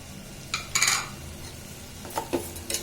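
Rice being stirred and sautéed in a pan on a raised gas flame, with two short bursts of spoon scraping against the pan over a faint, steady sizzle; no talking.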